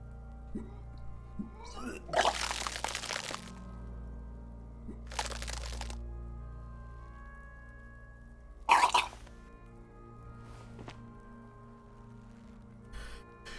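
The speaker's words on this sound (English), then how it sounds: "Your body curls and pushes it out, burst by burst, until a pool of vomit lies under your feet" A video game character vomits in Disco Elysium: three separate wet, retching bursts come in a row, loud against a quiet background drone of game music.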